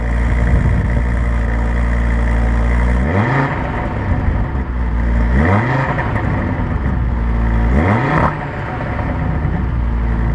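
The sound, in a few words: Audi RS3 engine revving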